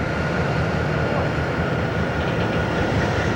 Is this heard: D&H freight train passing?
yes